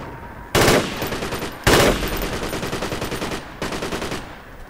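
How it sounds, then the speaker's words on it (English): Automatic machine-gun fire in the tactical military shooter Project Reality v0.9, in three loud, close bursts of rapid rattling shots with only brief gaps between them. "What are you shooting, Sick?"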